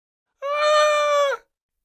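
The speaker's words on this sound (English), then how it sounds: "Little Princess shrieked for her parents as loudly as she could." A young girl lets out a single high, sustained shriek for her parents, about one second long, loud and alone against silence.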